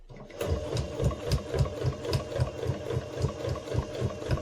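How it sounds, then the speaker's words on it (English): Sewing machine stitching a quilt's binding about a quarter inch from the edge, running at a steady rhythmic pace with regular needle pulses throughout, close and moderately loud, no voices. "I'm going to stitch the regular way about a 1/4 inch away from the edge of the quilt here"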